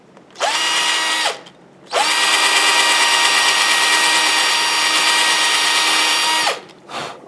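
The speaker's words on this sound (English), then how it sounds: "So I'm going to take my drill." A handheld power drill whines at a steady high pitch, running briefly, stopping, then holding a long even run of several seconds before a short final burst, loud and close with no talk.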